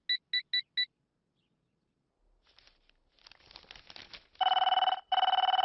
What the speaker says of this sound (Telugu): అబ్బా, ఈ ఫోన్లో చంపేస్తున్నా.